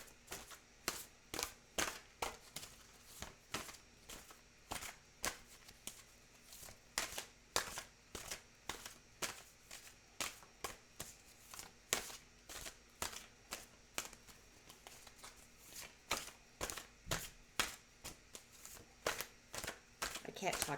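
A deck of tarot cards shuffled by hand again and again, each riffle a sharp papery burst in a steady repeating rhythm, close and clear, with someone speaking now and then between the shuffles.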